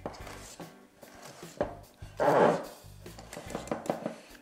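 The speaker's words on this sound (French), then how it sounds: "à l'aide d'un fouet en mélangeant délicatement tout en tournant la cuve" A whisk folds whipped cream in a mixing bowl for tiramisu, with soft irregular scrapes and taps against the bowl and one louder, longer swish in the middle.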